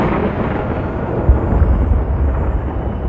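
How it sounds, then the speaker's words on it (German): Deep thunder from a heavy storm rolls in a continuous low rumble, with a slightly stronger boom partway through, with no voices. "Gerade die Gewitter können hier zum Teil heftig sein."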